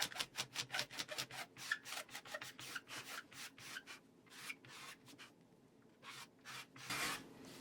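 A blade scrapes cured epoxy on a wooden slab coffee table top in quick, rhythmic rasping strokes. Each pass is close and fairly soft, and the strokes slow into separate drags near the end.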